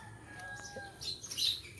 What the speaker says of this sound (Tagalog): Pinamumugaran ng mga ibon.